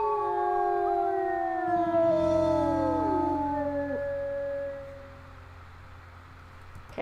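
A pack of wolves in the Accurate Ironwolf game howls together, long sliding tones rising and falling in overlapping layers. The howls start loud, then fade out over the last few seconds.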